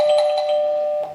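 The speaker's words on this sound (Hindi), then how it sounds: "इतनी अथॉरिटी के साथ घंटी बजाने वाला" A domestic doorbell rings once in a home on a Sunday morning, a loud, clear electronic chime with bright sustained tones that ring out for about a second before cutting off.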